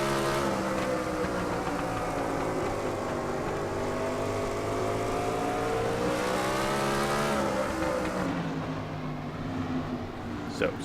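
USAC sprint cars roaring together in the iRacing sim at South Boston on the green flag, a loud, dense, continuous engine drone with rising and shifting pitch as the field accelerates.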